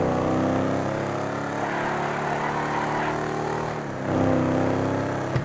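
A modified Rat Truck in GTA 5 Online, driven through mud, gives a loud, steady engine drone that holds close and continuous, dips briefly, then revs back up with a rougher growl near the end.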